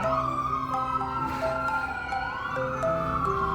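An emergency siren wails loudly and continuously, its pitch rising and falling as the vehicle passes close by amid Philadelphia street traffic noise, heard from a double-decker sightseeing bus.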